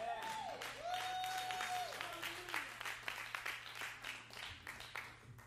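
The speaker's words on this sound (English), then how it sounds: "Clap your hands if you receive it." Church congregation clapping hands, fairly quiet, sustained applause with voices and a sustained tone at the start, turning into more distinct claps near the end.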